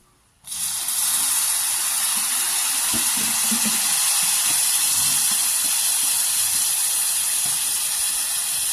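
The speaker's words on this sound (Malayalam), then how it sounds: "ഇനി നമുക്ക് ഇതിലേക്ക് വിനാഗിരി ഒഴിച്ചു കൊടുക്കാം" Vinegar poured into a hot pan of nutmeg pickle sets off a sudden loud hiss that holds steady and strong for several seconds, close up with no voices.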